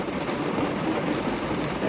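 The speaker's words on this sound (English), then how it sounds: "I love this rain." Steady rain falls without a break, a dense even hiss of drops that stays loud and close the whole time, with no voices.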